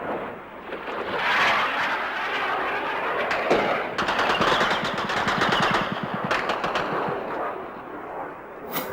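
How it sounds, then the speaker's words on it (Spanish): Anti-aircraft batteries firing during a war, heard as rapid bursts of machine-gun-like reports and heavier booming shots that intensify midway, with no talk. "Contestan nuestras baterías antiaéreas y se ve el refulgir de sus disparos en el aire."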